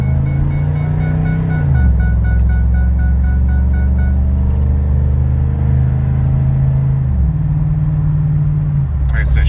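A 2004 Ford E250 van, a handicap-accessible conversion, accelerates hard and drops into passing gear, its engine a loud, steady low drone that shifts pitch twice as the transmission changes gears, close and continuous throughout.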